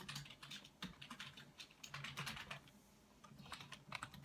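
Typing on a computer keyboard while entering spreadsheet labels, a quiet, steady stream of light clicks in irregular bursts with brief pauses, close by and heard alone.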